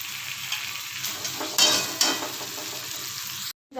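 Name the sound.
spiced potatoes and pointed gourd being sautéed with water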